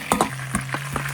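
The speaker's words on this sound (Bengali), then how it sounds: "এখন আমাকে মেরিনেট করা মুরার গোস্ত ভাজতে হইবে।" Marinated chicken frying in oil for a wedding-style roast, with sharp crackling pops scattered over a low, steady hum in a short burst of cooking noise.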